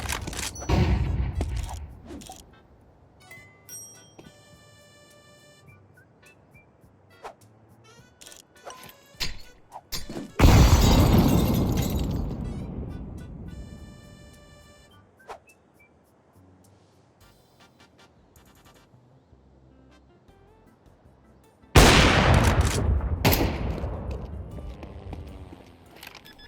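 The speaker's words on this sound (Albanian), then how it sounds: "Flashbang." Flashbang and gunfire in an online shooter game: two loud broadband bursts with long decaying tails stand out, between scattered sharp shots, clicks and footsteps, with a high ringing tone after the first blast.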